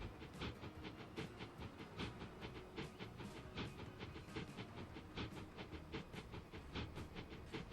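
A train running in the video game Transport Fever, with a continuous rolling rumble and rhythmic clacking pulses repeating evenly throughout, heard alone at a moderate, fairly distant level.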